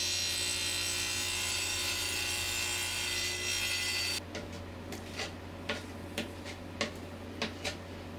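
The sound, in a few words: hacksaw rod blade cutting tile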